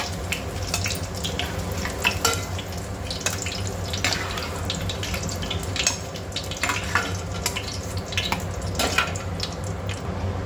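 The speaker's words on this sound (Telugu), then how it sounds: "ఈ ఆయిల్లోని 2 ఉల్లిపాయలు, ఒక పెద్ద సైజు ఉల్లిపాయలు పోసుకొని ఫ్రై చేసుకున్నాం." Two large onions frying in plenty of hot oil in a pan after eggs were fried, a steady loud sizzle and crackle with occasional stirring scrapes, close and continuous without talk.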